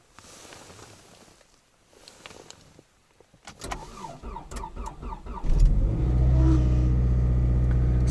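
Cold start of a Toyota or Ford car engine in minus 24 degree frost, with faint clicks and whirs before a quick cranking burst that catches at once and settles into a loud, steady idle.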